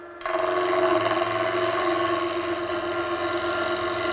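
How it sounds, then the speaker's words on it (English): A ball gouge makes a chiseling cut on wood spinning on a Coronet Herald lathe, a steady close rasping hum starting abruptly and holding evenly, with no talk. "Chiseling cut there with the ball gouge"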